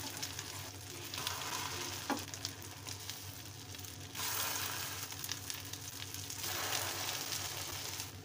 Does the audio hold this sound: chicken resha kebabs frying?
yes